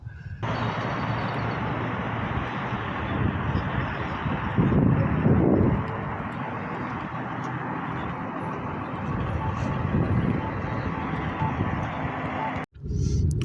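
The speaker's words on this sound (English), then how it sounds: "There's a plane flying right over the blue" Airplane passing overhead in Las Vegas, a broad, steady engine roar that holds loud for the whole stretch, swelling slightly midway, with outdoor background and no clear talk.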